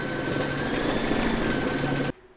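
An embroidery machine stitches round 8 of an in-the-hoop mushroom coaster, a steady, dense mechanical whirr running continuously close by before stopping abruptly near the end.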